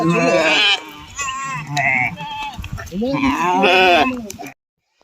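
Sheep bleat loudly and close by, several overlapping calls in quick succession with short pauses between them, ending abruptly in silence.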